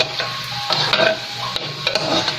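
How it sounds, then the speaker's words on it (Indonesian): Glutinous rice flour ondol-ondol balls fry gently over low heat, a soft continuous sizzle broken by repeated stirring scrapes and light clinks of a utensil against the pan. "Kita goreng sampai matang ya sahabat, gunakan api kecil."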